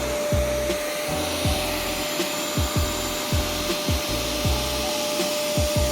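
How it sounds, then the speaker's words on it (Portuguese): A 1400-watt Electrolux vacuum cleaner runs steadily with a close, loud motor whine and airflow roar, while rhythmic scraping bumps repeat every half second or so as the nozzle is pushed back and forth. "Isso aqui, sim, é um aspirador de pó raiz."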